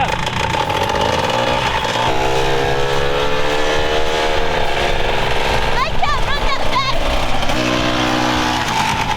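A 1994 Rokon off-road motorbike engine runs loud and close, a steady rough mechanical drone with shifting pitch and revving, while voices talk over it.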